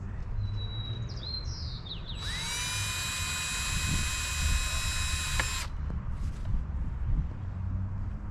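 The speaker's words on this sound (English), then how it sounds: "Just drill from the back side" A drill boring through the back side of a wooden nest box, heard as a steady high whine lasting about three seconds, with bird chirps in the background before it starts.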